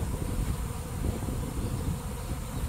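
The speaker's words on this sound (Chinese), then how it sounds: "看这蜂子，在这个小树上。" A swarm of honeybees clustered around their queen on a small tree gives off a dense, steady buzzing drone that fills the air continuously, with no voices.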